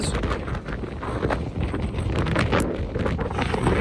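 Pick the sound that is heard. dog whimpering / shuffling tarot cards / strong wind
strong wind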